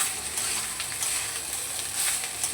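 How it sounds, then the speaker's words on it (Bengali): Rice tossed in a pan with fried potato and onion gives a steady close sizzle and soft scraping of stirring, with no talk. "তো ভাতগুলোকে দেখে সব এবার দিয়ে দিলাম, এবার ভালো করে একটু নেড়ে চেড়ে নেবো"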